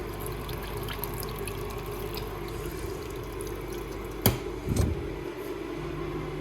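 Steady rushing of pressurized water flushing a Kia Sportage cooling system contaminated with oil, with a couple of louder bursts and splashes near the end, no talking.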